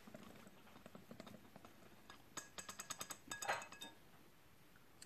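A whisk clinks against a bowl as flour, baking powder and vanilla sugar are stirred by hand, giving soft, quick metallic taps that grow into a brighter burst of clinks before fading.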